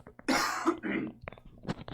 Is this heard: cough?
yes